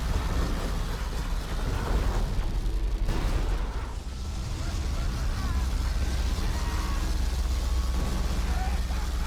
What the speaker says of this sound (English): the nuke finds its damage against the power plants of Fury. Another particle cannon firing off.